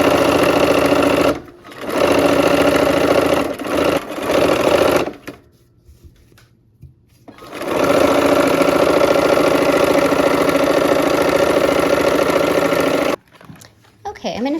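A sewing machine stitches a sail in loud, steady mechanical runs that stop and restart, with a long pause in the middle and a final short burst.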